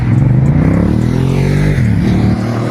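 A large motorcycle engine of 700 cc or more runs steadily on a road at Niagara Falls, its loud, continuous low rumble swelling slightly as it revs, then easing near the end, with no voices heard.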